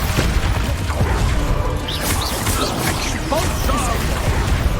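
A loud Expulso spell blast bursts amid the busy clash of combat in the Hogwarts Legacy video game, with crashing, booming impacts and swishing effects layered over continuous dense noise.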